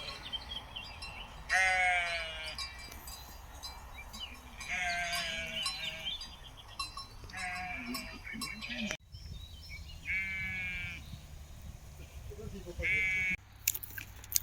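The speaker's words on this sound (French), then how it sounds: "Il y a une chèvre qui fout le bordel là" Goats bleat loudly and repeatedly in wavering cries, close by, with people talking and outdoor ambience between calls.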